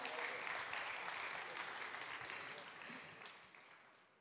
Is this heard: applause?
yes